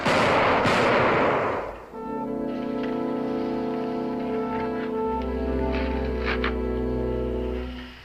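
A loud, close volley of rifle gunfire crackles out in a frontier western setting, a dense burst lasting about two seconds, after which a sustained musical score takes over.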